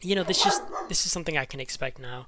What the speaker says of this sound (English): And sorry about my dog back there.